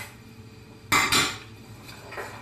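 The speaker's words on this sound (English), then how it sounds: "There go my green onions." Green onions tipped into a hot pan for fish pie, two sharp metallic clatters close together as the pan and utensil knock, then a softer clink and a faint sizzle trailing off.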